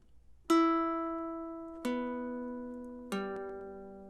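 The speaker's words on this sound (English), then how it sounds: "We're just going to pluck each of these strings one at a time." Three Loog guitar strings plucked one after another, each note ringing out clearly and fading slowly before the next.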